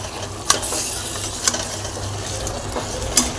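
Chicken, masala and rice stirred together in a pot for biryani, a soft continuous sizzle with a few sharp scrapes and knocks of the spoon against the metal, close by.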